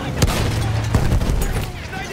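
Grenade blasts and gunfire in the World War I shooter Battlefield 1, with sharp bangs and low rumbling booms over a dense battle din, and someone talking over the action.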